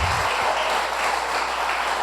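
A church congregation applauds together during a family worship service, a steady dense wash of clapping that holds evenly throughout at moderate loudness.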